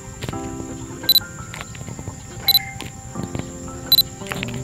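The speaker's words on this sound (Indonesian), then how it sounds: "Shutter saya mainkan." Three crisp shutter clicks from a mirrorless camera fitted with a Canon lens adapter, evenly spaced and close, over a low background of faint ambient noise.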